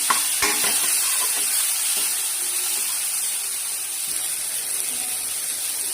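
Ground rasam spice paste frying in a tempering gives a steady loud sizzle and hiss, with a few stirring scrapes at the start.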